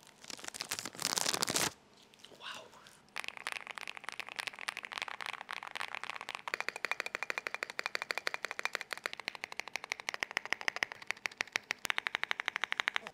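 Rapid keystrokes on a Cyberboard mechanical keyboard fitted with PE foam, a dense run of crisp clicky taps at a quick steady pace, close and alone after a brief burst of rustling at the start.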